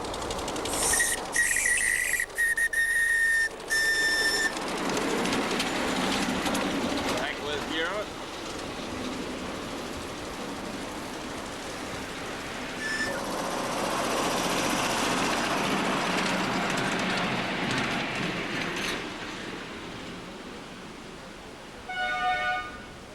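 A model train engine runs on a layout at a model railway exhibition, hauling a load of bricks with a guards van, giving a steady mechanical running hum with brief high whistle tones near the start, under people talking.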